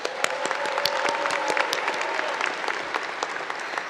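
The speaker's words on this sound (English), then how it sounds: "can we get a round of applause for that?" A crowd at a technology institute commencement claps in a thick, even burst of applause, with crisp individual claps audible through the steady roar for the full few seconds.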